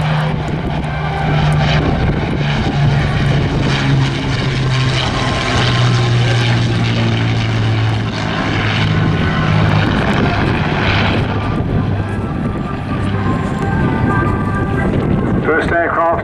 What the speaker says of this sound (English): The mighty Lancaster.